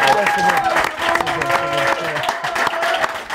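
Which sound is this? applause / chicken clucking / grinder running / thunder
applause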